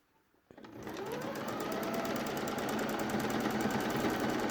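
Sewing machine stitching through several fabric layers on a dungaree bib seam, starting after a brief quiet moment and then running at a fast, steady, even rhythm close up.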